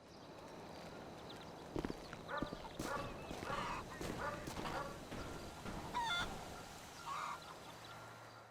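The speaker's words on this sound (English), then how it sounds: "Next, 2 chickens can spawn that run into their own issues." Chickens clucking and squawking in Grand Theft Auto V, a few short bursts of bird calls scattered over a steady game-ambience background, with a bit of footstep-like clatter.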